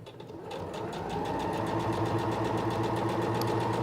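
A Singer Professional 9100 sewing machine stitches in a zipper, its motor starting up and then running at a steady, close, fast mechanical hum with a rapid needle rhythm and no talk.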